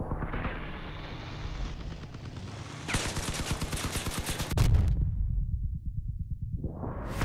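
Vehicle-mounted weapons firing in the combat game Crossout: a steady, fast-rhythm stream of loud automatic shots plays for a couple of seconds over engine drone, then cuts off into quieter rumbling.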